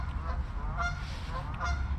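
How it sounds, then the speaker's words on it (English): Geese honk a few times at a distance in the woods over a low, steady rumble of wind or outdoor noise. "There goes the geese."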